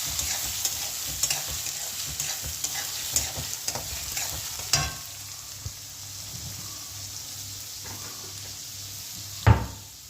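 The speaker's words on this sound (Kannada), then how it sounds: "ಆಮೇಲೆ ಫ್ರೈ ಮಾಡ್ತಾ ಇರಬೇಕು." Green chillies and chopped cucumber frying in a pan, a soft continuous sizzle with occasional stirring scrapes and a couple of sharper knocks, close by, no talking.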